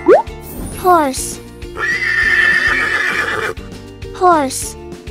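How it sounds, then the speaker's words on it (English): A horse gives one long, shrill neigh that wavers for a couple of seconds, set against cheerful background music and brief sound effects. "Horse."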